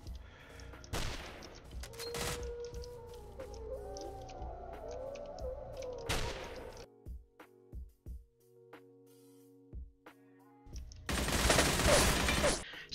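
Gunfire in the shooter game Stalcraft comes in sharp bursts of shots separated by quieter gaps, with whining tonal game sounds between them and a dense loud volley near the end.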